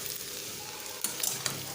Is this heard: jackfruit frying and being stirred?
yes